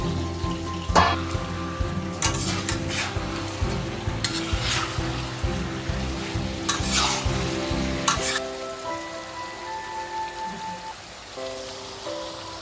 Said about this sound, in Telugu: ముందుగా మీ ముక్కల్ని ఫ్రై చేసుకుంటాం.